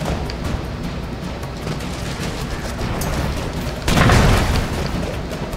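Broforce video game explosion, a loud broad blast bursting in near the four-second mark over a constant dense din of game noise and gunfire.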